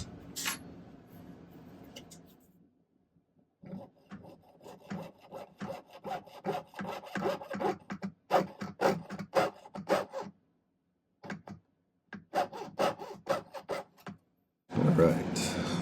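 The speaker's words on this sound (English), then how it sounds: "I'm going to saw it with a jeweler's saw" A jeweler's saw cuts through silver for a pendant in a long run of quick, rhythmic rasping strokes, close and fairly clear, with short pauses between bursts.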